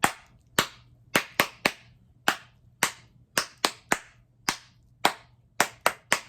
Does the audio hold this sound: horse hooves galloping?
no